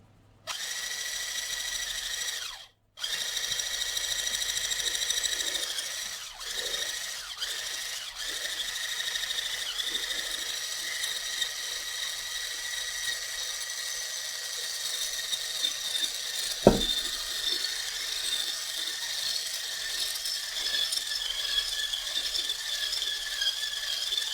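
An electric stand mixer beating cake batter gives a steady mechanical whir with a high tonal whine for over twenty seconds, close by and fairly loud, with brief stops near the start and a single sharp knock midway.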